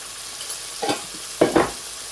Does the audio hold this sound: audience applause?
no